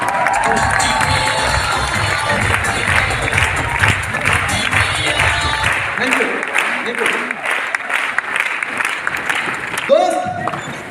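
A live stage program audience in Nagpur stands and applauds loudly, with dense, sustained clapping and scattered cheers filling the whole stretch and a few voices rising through the crowd noise.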